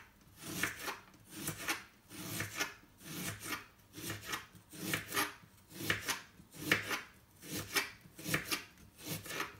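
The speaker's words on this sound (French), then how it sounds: "Et couper des tranches comme ça." Knife cutting fresh ginger into thin slices on a board, a steady run of about a dozen crisp rasping strokes in an even rhythm, close and moderately loud, with no talking.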